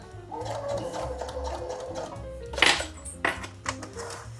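A sewing machine runs in a steady whirring burst as it stitches trouser seams for a wedding suit, then stops, leaving a few sharp clicks and clatters of handling.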